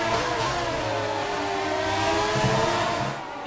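A Formula 1 car in the F1 2019 racing video game, its engine whining steadily and rising in pitch as it accelerates, loud and continuous with no talking, easing off just at the end.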